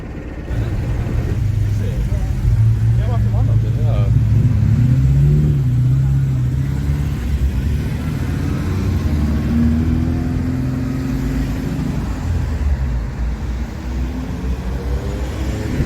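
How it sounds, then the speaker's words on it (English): Classic Mini cars driving through Lechlade one morning, a steady close engine rumble with rising revs, heard under a voice talking throughout. "Just love the mini cars"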